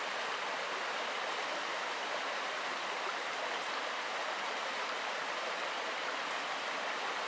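A side creek near Minister Creek flows in winter, a steady, unbroken rush of water close by that holds an even level throughout, with no voices.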